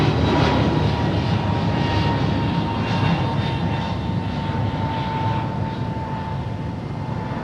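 An American Airlines Airbus A321neo roars down LAX runway 25 right on takeoff, a loud, steady, broadband engine rumble with a sustained tonal whine that eases slightly as it goes on, no voices present.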